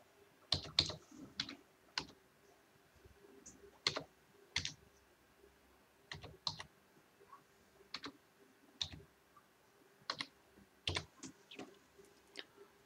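Someone types an Aadhaar number on a computer keyboard, producing quiet, scattered key clicks in short irregular bursts with pauses between them and no talking.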